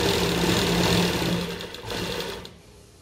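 A sewing machine runs steadily as it stitches lace onto a garment neckline, giving a loud, fast mechanical whirr that dips briefly before stopping.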